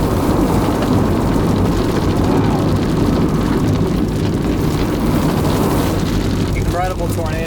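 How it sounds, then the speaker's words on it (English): Tornado storm roaring with heavy rain and thunder, a loud continuous broadband rush filling the scene, with a voice briefly heard near the end. "Incredible tornado on the ground right now."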